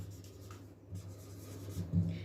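A pen scratches across paper while writing out the answer to a physics numerical problem, soft close-up strokes over a low room hum.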